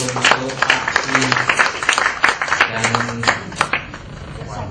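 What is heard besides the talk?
audience applause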